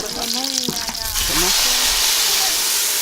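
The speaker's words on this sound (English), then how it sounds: "they're just frying up a little bit of garlic, onions, and tomatoes" Garlic, onions and tomatoes sizzle steadily in a pan as part of a rural Rwandan plantain dish, with brief voices in the first second before the frying hiss carries on alone.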